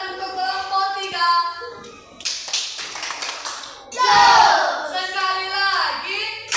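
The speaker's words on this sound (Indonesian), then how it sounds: "Beri tepuk tangan untuk kelompok 3." Children in a classroom clap for a group in short bursts, mixed with excited young voices and shouting, close and lively.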